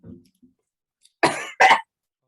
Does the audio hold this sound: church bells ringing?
no